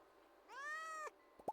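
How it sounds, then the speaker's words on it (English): A cat meows once in the video game Stardew Valley, a clear rising-then-falling tonal call, followed by two short soft plopping sounds. "Oh, it's a cat!"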